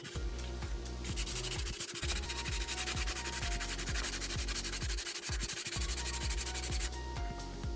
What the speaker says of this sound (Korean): 천 원짜리 사포에 이렇게 이렇게 주시면 있죠?